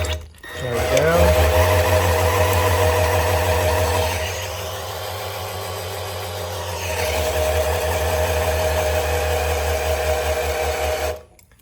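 Milwaukee M12 cordless drill turning an engine's oil pump to pre-lube it before camshaft break-in, a sustained loud whirring drone with a steady hum that dips midway and rises again before stopping, with speech over it.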